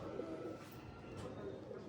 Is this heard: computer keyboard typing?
no